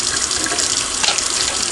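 Water poured out onto a cleaning cloth while cleaning old video game consoles and controllers, a steady gushing splash like a running tap, loud and close, continuous for the whole moment.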